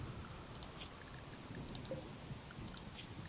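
Steady rain downpour during a thunderstorm in the video game RimWorld, a dense even hiss of falling water with no talk.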